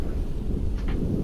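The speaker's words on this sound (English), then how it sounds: "I think it's a thunderstorm" Thunder rumbles during a thunderstorm with a possible tornado nearby, a steady low roar filling the whole stretch with a couple of brief brighter crackles near the middle.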